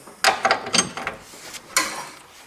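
A wrench works on a tight, rusty, heat-loosened nut, giving several close, sharp metallic clicks and scrapes in uneven bursts.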